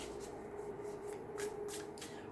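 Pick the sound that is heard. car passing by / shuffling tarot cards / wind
shuffling tarot cards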